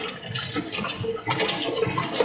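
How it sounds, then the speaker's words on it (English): Clams being swirled in a pot of water to rinse out loose sand, giving a steady sloshing, churning wash of water that runs continuously and close by, with no talking. "I'm going to keep swirling it because that's going to take up any loose sand"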